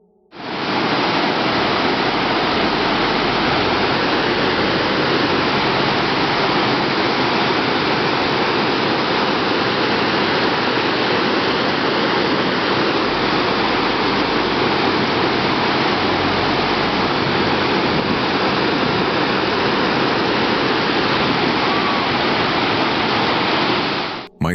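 Waterfall roaring as a dense, steady wash of broadband rushing water, loud and unbroken for the whole stretch, with no voices or other sounds.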